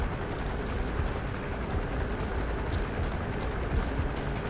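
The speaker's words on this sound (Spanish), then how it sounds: "Aquí jugando al escondite con el helicóptero." Helicopter in Metal Gear Solid V: The Phantom Pain, a steady, continuous rotor and engine drone that holds loud and unbroken throughout, with no voices over it.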